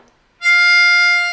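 A single 5 draw note on a C harmonica, a clean reedy tone held steadily for about a second, close and alone.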